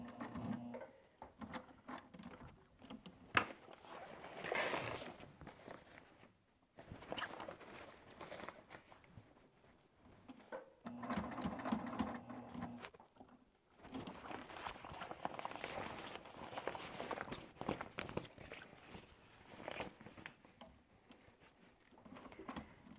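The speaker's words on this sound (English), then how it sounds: "sew over that folded edge of webbing here" Sewing machine stitching over a folded edge of webbing on an apron, running in bursts of rapid needle chatter separated by short pauses, close and fairly quiet.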